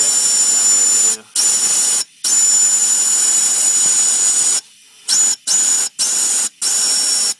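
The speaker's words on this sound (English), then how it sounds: "I am blowing the air through that line" Compressed air hisses loudly through a heater core line on a 1966 Mustang Coupe, coming in several sustained blasts separated by brief silent gaps, with more frequent short bursts toward the end.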